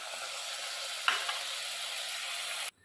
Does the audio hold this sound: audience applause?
no